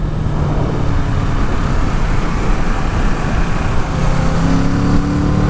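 A motorcycle sweeps through a corner on a damp road, its engine a loud, steady roar under rushing wind, with the pitch climbing slightly toward the end.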